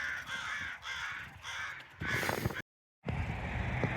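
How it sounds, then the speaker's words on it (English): Crows caw repeatedly in a loud, continuous chorus from a murder of crows gathered outdoors in the desert, broken only by a brief silent gap. "the murder of crows behind me"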